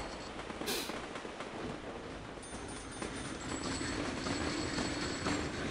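A train runs in Sid Meier's Railroads on a Northeast USA route, a steady rumbling rail noise with faint wheel clatter, continuous and fairly even throughout.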